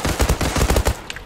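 A CX4 carbine fires in the online shooter Zula as a rapid, loud burst of about eight close shots in quick succession, followed by a brief tail and a faint click.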